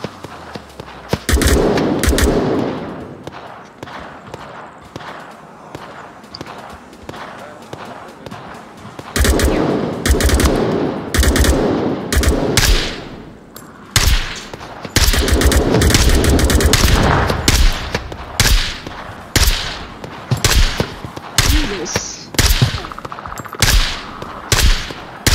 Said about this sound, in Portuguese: Ele tá atirando na gente.